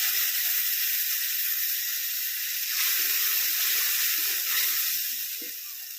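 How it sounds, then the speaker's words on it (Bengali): Water is poured into a hot cooking pan holding ginger-garlic paste for a prawn and water lily curry, giving a steady bright hiss and sizzle that fades slightly at the end, with no talk. "অল্প পরিমাণ জল দিয়ে দিচ্ছি"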